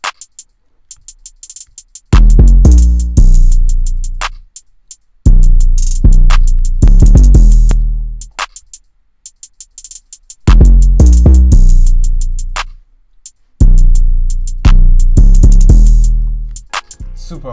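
Hip-hop drum beat made in FL Studio, punchy bursts of booming 808 bass, kicks and crisp hi-hats that start and stop in short loud sections, with near-silent gaps between them and no voices.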